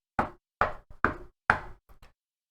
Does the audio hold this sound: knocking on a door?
yes